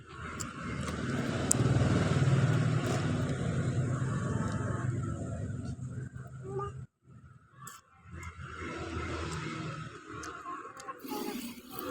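Pencils are sharpened quickly by hand in a race challenge, with a continuous grinding, whirring rasp that runs steadily, drops out briefly, then resumes in choppier bursts at close range.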